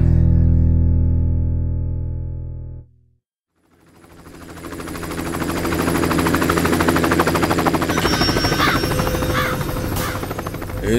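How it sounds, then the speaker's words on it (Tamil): A helicopter arrives in a Tamil action film: a loud engine drone cuts out briefly into silence, then returns as a steady rhythmic rotor chop that grows and holds near. "இந்த ஊருக்கு ஏற ஹெலிகாப்டர்ல வருது."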